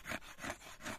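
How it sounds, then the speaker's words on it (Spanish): Sandpaper rubs along a handmade wooden hammer handle in three steady back-and-forth strokes, a soft, close, raspy scraping with no talk. "le vamos a dar aquí así para lijarlo así un poco"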